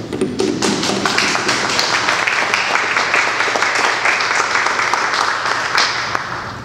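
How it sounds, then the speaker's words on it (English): An audience claps loudly and continuously, a dense patter of many hands that fades slightly at the very end, at a school district trustees forum. "I'd like to give you guys a round of applause for coming tonight"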